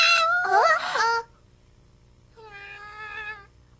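A cat gives two meows, the first loud and drawn-out with a rising-falling whine, then a softer, shorter one after a brief pause.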